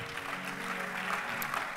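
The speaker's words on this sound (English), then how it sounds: "Give God another round of applause." Church congregation applauding during a worship service, a steady, dense wash of clapping from many hands filling the room without pause, with faint voices mixed underneath.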